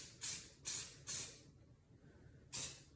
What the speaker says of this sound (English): Rust-Oleum, this spray is so much better.